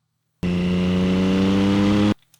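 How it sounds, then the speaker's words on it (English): A car engine sound effect for a motorcycle scene cuts in abruptly as a steady, loud, droning hum with strong low harmonics, holding constant for under two seconds before stopping sharply. "there's a car is coming"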